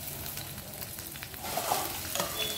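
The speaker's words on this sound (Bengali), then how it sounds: "তো তেলটা গরম হয়ে গেছে, প্রথমে আমরা দিয়ে দেবো আদা কুচি ও কাঁচা লঙ্কা কুচি" Chopped ginger and green chili frying in hot oil for vegetable Maggi noodles: a soft continuous sizzle that rises and brightens as the pieces hit the pan, with light stirring.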